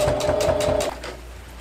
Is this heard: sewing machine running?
yes